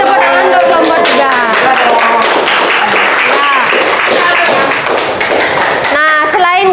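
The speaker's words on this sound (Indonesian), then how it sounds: "Silakan kasih tepuk tangan untuk kelompok 3." Schoolchildren in a classroom science lesson clap for a group of classmates, a loud, busy rattle of hands and taps mixed with excited children's voices and shouting throughout.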